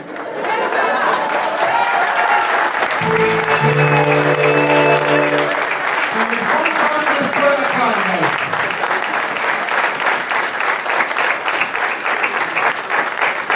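Dense applause from a crowd at a carnival session of a hussar society, filling the hall steadily throughout, with a burst of brass-like tones partway through and chatter mixed in.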